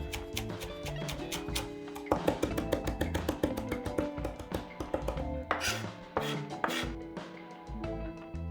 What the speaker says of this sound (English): pull the leaves off the rosemary and we're going to mince this.